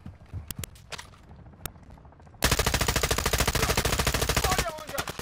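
Gunfire in Call of Duty Warzone 2.0 DMZ: a few scattered single shots, then a loud sustained burst of rapid automatic fire lasting about two seconds, with faint talk around it.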